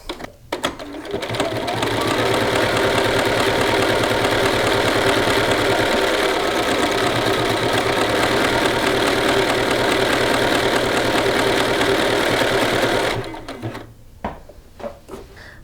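A sewing machine stitches a test buttonhole in one long, steady, fast mechanical whir lasting about twelve seconds, close and loud, starting and stopping cleanly amid faint handling sounds.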